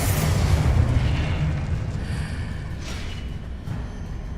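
A Confringo blasting spell cast in Hogwarts Legacy lands as a loud, booming explosion at the start, its heavy low rumble and crackle decaying over the next few seconds with smaller bursts trailing behind.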